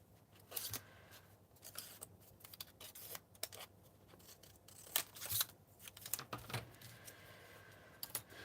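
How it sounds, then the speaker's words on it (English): Scissors snip apart small pieces of craft paper die cuts at a crafting table, with quiet, close, irregular cuts and rustling spread throughout. "Cut them apart here."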